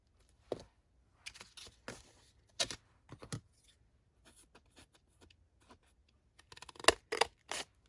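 Scissors cutting paper for a Stars and Stripes craft, close and quiet, with irregular short snips scattered through the quiet and a quicker cluster of cuts near the end.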